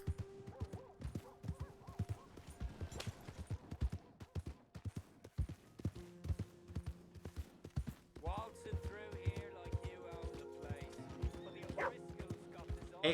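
Horses in Red Dead Redemption 2 whinny several times over quick, repeated hoof clip-clops, sitting close in the mix with gameplay effects and occasional voices.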